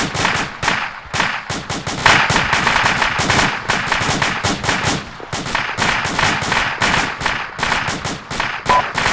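Rifle gunfire during a military field training exercise outdoors, rapid loud bursts of shots cracking in quick succession, nearly continuous volleys with brief gaps, close by and with no voices.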